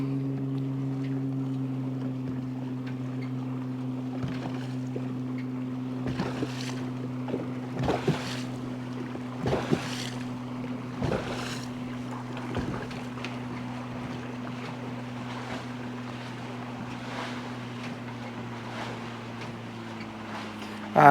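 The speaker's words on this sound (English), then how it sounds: "All right, we got waves." Wind and choppy waves wash around a small fishing boat fitted with a power pole trolling motor, a steady low motor hum running throughout beneath intermittent gusts and water slaps, with no talking.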